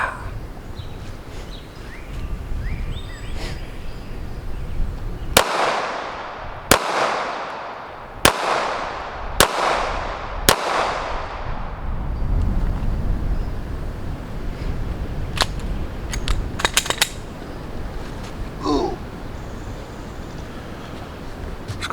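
Five sharp gunshots from a Sig Sauer P365 XMacro pistol, fired one after another at an even pace about a second apart at a shooting range, each a loud crack with a decaying ring, followed by quieter outdoor ambience.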